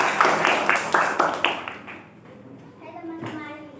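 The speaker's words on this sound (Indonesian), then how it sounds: "Tepuk tangan untuk Mbak Desi." A small group at a teachers' coaching session claps for a presenter: about half a dozen crisp, rhythmic claps over a second and a half, then the clapping stops and voices talk.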